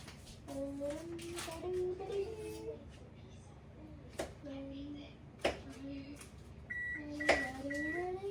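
A microwave oven hums steadily with a low drone, while a voice and light chatter come and go, ending with a few short electronic beeps.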